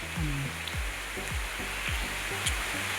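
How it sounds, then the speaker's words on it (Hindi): Steady wash of heavy rain falling outside in Wayanad, Kerala, throughout, with a series of low, rhythmic croaks pulsing underneath, like frogs calling nearby. "ये पीछे आपको बारिश की आवाज़ भी आ रही होगी,"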